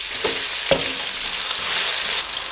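Salt and onion hit hot oil in a pan, giving a loud, close, continuous hiss with a couple of brief bumps from stirring or utensil contact, no talking.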